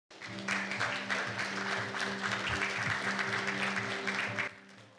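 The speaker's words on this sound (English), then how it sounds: "Please give him a big round of applause" Audience applause at a Seoul science and technology forum on AI, following a welcome speaker's introduction: a steady, dense wash of clapping with a low sustained hum underneath, holding evenly before tapering off at the end.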